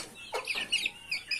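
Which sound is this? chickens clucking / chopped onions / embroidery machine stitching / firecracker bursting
chickens clucking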